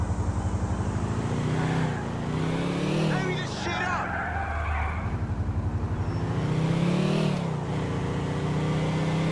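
A car engine in GTA 4 drives steadily, its tone rising and falling as it accelerates and shifts, loud and close throughout, while someone talks over it.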